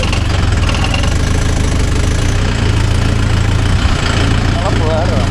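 A Mahindra Yuvo Tech Plus 585 4WD shuttle-gear tractor runs steadily close by, its diesel engine giving a continuous low, knocking drone throughout with a constant level and no pauses.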